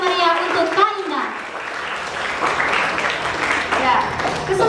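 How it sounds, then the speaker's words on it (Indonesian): An audience at a high school student council debate breaks into applause under a speaking voice, the clapping swelling as the talk fades and then carrying on at moderate level. "Mari kita berikan tepuk tangan yang paling meriah untuk Kak Indah."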